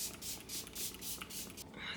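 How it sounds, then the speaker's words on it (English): Face setting spray misted onto skin during a makeup routine, a series of soft close hissing bursts in quick succession, quiet and breathy. "I am going to spray my face even though I feel like I don't need to"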